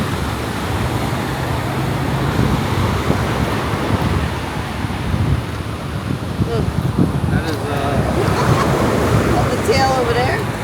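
Ocean waves wash onto a rocky beach in Costa Rica with a steady, broad surf roar mixed with wind. The sound swells and recedes throughout, and people talk nearby over it.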